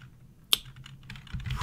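Keystrokes on a computer keyboard while comments are written into a Python program, a few close clicks with one sharp louder tap near the middle and a quicker burst at the end, no voices.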